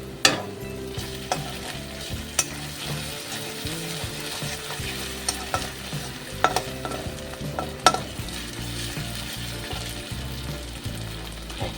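Ginger garlic paste sizzles and fries in a pan, with steady crackling throughout and occasional scraping clicks of stirring.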